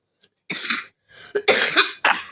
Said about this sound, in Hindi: मैं खांसी भैया क्या करूं, मैं दुखी हो गई हूं मैं इस चीज़ से।